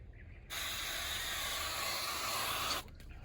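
Olive oil from a spray can hisses onto a hot gas grill in one steady burst lasting a bit over two seconds, loud and close, with quieter ambience before and after.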